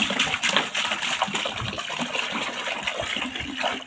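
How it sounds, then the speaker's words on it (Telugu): Soaking water tipped out of a bucket after a saree was dipped in it, a continuous splashing gush of water running and spattering at close range for the whole few seconds. "ఇప్పుడు ఈ వాటర్ పడేసి మళ్ళీ వేరే తీస్తాను."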